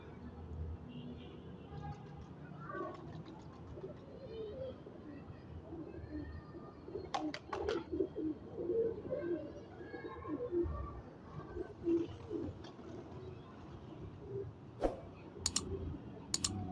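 Teddy pigeons cooing softly at close range in a loft, with low repeated coos, scattered clicks and light rustling throughout.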